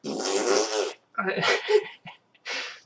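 A voice imitates a huge fart in a long, rasping, buzzy blurt, followed by a couple of shorter sputtering bursts, close and fairly loud.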